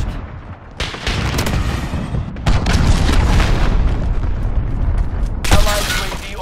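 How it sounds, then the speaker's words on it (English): Missile strike explosions in the shooter Call of Duty: Modern Warfare, with several loud booming blasts in succession, each a sharp crack followed by a rumbling tail, crowded together near the listener amid the din of battle. "Missile launched."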